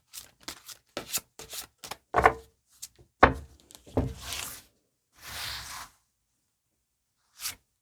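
Tarot cards are handled during a Korean money-and-documents reading. A run of close, dry flicks and slaps gives way to heavier rustling and a sliding swish, then a final soft snap as a card is drawn.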